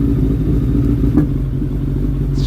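A Suzuki Bandit 1200S MK1 motorcycle fitted with uprated EBC clutch plates runs close by with a steady, deep engine rumble that holds loud and even throughout, with no speech.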